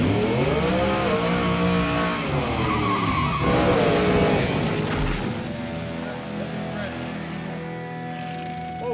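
On a Street Outlaws drag race test pass, a race car spins its tires in a loud screeching, revving squeal that rises and wavers, then its engine fades into a lower drone, close by.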